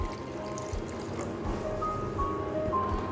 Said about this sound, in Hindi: अब आप इसमें और पानी ऐड करें,